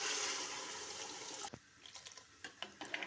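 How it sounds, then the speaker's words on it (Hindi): Water pouring into a cooking pot of chana dal and chopped bottle gourd, a steady rushing flow for the first half that breaks off into scattered drips and small splashes. "पानी इसमें डाल दिया है।"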